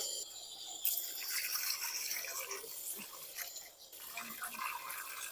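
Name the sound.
washing ingredients in water before boiling fish soup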